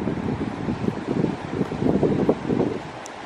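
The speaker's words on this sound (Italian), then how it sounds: "soprattutto c'è vento, quindi mi toglie il cappuccio" Blustery wind on a rainy London street buffets the microphone in a continuous low, rumbling roar that swells and eases, with no speech.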